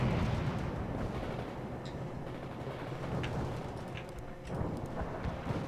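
Mortar fire in the World in Conflict video game comes as a dense, rumbling barrage of low booms, with faint crackles running steadily through it.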